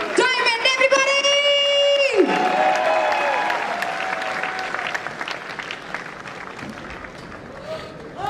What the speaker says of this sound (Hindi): दोनों हाथ ऊपर करके जोरदार ताली हो जाए for a new royal diamond everybody